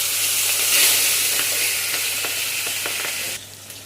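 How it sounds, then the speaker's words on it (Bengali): Fish fry in hot oil with a loud, continuous sizzle and faint crackling pops, close by and without voices. "মাছগুলো ভাজা হচ্ছে।"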